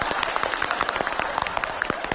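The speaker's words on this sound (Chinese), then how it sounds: "鼓掌" Studio audience at a Chinese sketch-comedy show breaks into brisk applause, a dense patter of many hands clapping for about two seconds.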